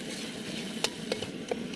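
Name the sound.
ginger garlic paste frying with onions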